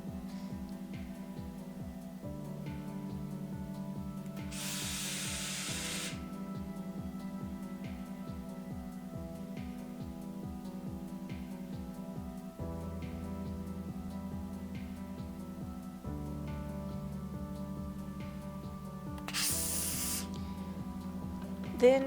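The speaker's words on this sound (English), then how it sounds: "I needed to iron down those seams, so I spent probably a good half hour just ironing everything down" A steam iron presses down fabric seams on a historical costume, giving two brief bursts of steam hiss several seconds apart over steady background music.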